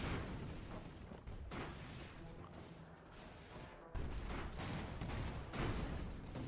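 Aimed cannon fire from armored airships, including a Canterbury Bunker Mark IV, in the strategy game Airships: Conquer the Skies, heard as repeated heavy booms and crashes in a dense, continuous battle with a sharp burst near the middle.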